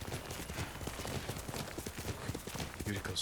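Hooves clip-clop in a rhythmic trot from a horse in the video game Ghost of Tsushima, moderately close and quiet, with faint in-game ambience and speech mixed in.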